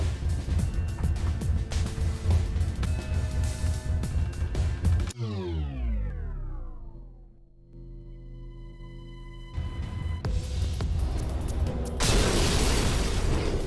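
A booming explosion in the Race the Sun video game bursts out, then its rumble fades into a long falling tail before the game's loud, busy sound returns.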